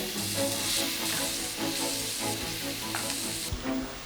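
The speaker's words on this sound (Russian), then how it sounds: "И жарим лук, нарезанный кубиками" Diced onions sizzle steadily in hot ghee, a close, continuous frying hiss with occasional stirring scrapes.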